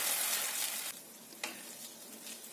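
Loud hiss and sizzle of vegetables frying in a hot pan for hot and sour soup as water is added, a broad steady roar that drops after a moment and settles into a softer sizzle, with no voices.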